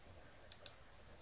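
Two quick, faint mouse clicks on a computer during Photoshop editing, spaced a fraction of a second apart in a quiet room.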